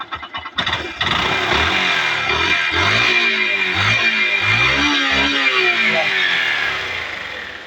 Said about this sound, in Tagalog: pakinggan nyo. So, yan ang minor niya.